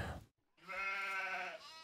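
A single sheep bleats clearly after a brief pause, a sustained wavering cry at close range, in the video game Farming Simulator 17.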